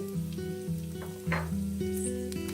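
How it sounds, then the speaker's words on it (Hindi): Garlic, cinnamon, green cardamom and cloves sizzling in hot oil for shahi dum aloo, a close, fairly quiet crackle under a steady low hum, with one brief brighter spatter; no talking. "अब इसी ऑयल में हम डालेंगे दालचीनी, छोटी इलायची और लौंग। साथ में ही आपने डाल देना है"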